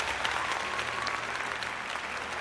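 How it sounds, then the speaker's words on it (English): A small group claps steadily for a couple of seconds, close and fairly loud, with no one talking. "a rare Rachel applause"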